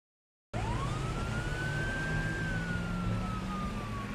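An ambulance siren wails with a single rising then slowly falling tone over road noise, starting abruptly and staying fairly steady as it passes.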